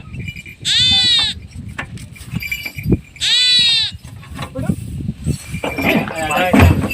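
Sheep and goats bleat loudly nearby on a farm in Mancherial district, Telangana, in two long, wavering calls, with scattered rustling, shuffling and other animal noises between and after them.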